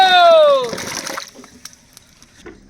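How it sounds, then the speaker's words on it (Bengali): Hog plums tipped into a pot of water for boiling: a brief tonal, voice-like sweep is followed by a close splash and sloshing, then scattered small drips and knocks. "আমরাগুলো কিন্তু এখন সিদ্ধ করে নেব। এখন জলে ঢেলে দেবো"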